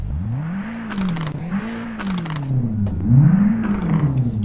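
Peugeot 3008 engine in the Euro Truck Simulator 2 video game, a loud, close, continuous hum whose pitch rises and falls repeatedly as the car revs and eases off, with faint clicks over it and no talk.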